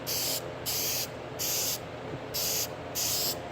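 Five short aerosol spray bursts applying coats of paint to a 1984 square-body truck dash pad, each hiss lasting about a third of a second with even gaps, close and fairly loud over a low room rumble.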